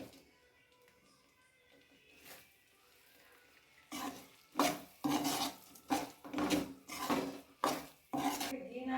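A roasted wheat flour mixture with sugar syrup scraped from a pan into a vessel, a quiet start and then a run of loud rhythmic rasping strokes of a spoon against metal, close by.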